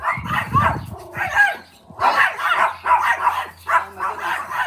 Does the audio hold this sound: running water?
no